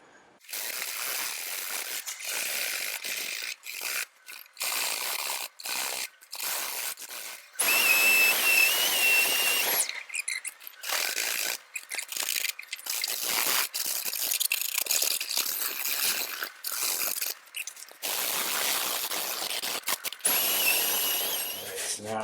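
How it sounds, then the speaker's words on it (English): Repeated scratchy sanding strokes with 120-grit paper on a foam pad over a wooden guitar body, close and steady, broken by brief pauses as the pad is moved. "Now I've just got some 120 on a sanding foam pad."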